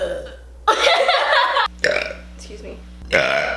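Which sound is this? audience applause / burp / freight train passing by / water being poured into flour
burp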